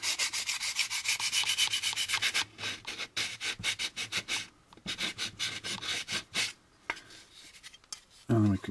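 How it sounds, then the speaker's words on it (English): Sandpaper rubbed over a seam on a plastic AMT U.S.S. Enterprise model kit part, with a dense, steady rasping at first, then a run of quick, close strokes with short pauses between them. "with cross hatching with round items, you want to roll the sandpaper"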